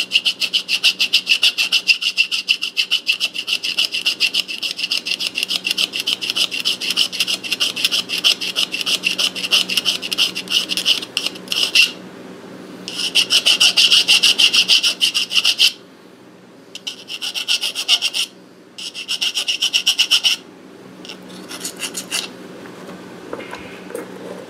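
Hand filing of a metal tube for a model tube train, a steady run of rapid rasping strokes, close and loud, briefly pausing then resuming in shorter bursts toward the end, with no talking.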